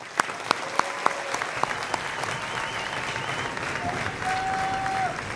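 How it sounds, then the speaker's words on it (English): Graduation audience applause for high school seniors, steady clapping from a large crowd with a few distinct nearby claps standing out and faint voices mixed underneath. "Let's give them all one more round of applause."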